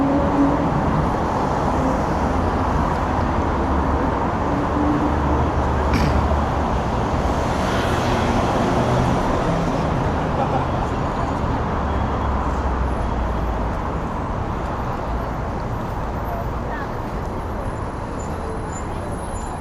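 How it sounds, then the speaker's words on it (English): Busy Saturday evening traffic on Nevsky Prospekt in St Petersburg, a dense continuous roar of cars and buses passing, with a brief hiss of air brakes partway through and no clear speech. "On Saturday, on Nevsky, the traffic is big,"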